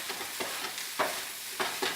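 Rice being stir-fried with sprinkled curry powder in a hot pan, a continuous sizzle broken by several scraping strokes of the spatula as the grains are tossed and mixed.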